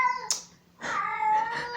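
A cat meows twice up close, a short call and then a longer drawn-out meow, with a brief click between them.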